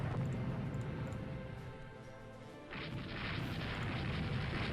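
Nine-inch naval shells striking an enemy warship in Rule the Waves 2: a low, rumbling battle din that dips, then a heavy booming impact midway that leaves a loud, sustained roar.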